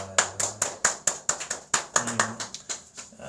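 A church congregation applauds after a Sunday worship service, a loose run of sharp, fairly close hand claps at an uneven rhythm with no talking.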